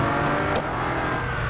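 Bugatti Chiron engine in Real Racing 3 holds a steady loud drone with a brief upward rev burst partway through, continuous game engine noise with no talking.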